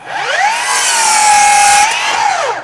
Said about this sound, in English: this is a solid block of hickory wood, so it's fairly hard, and it does slice through pretty well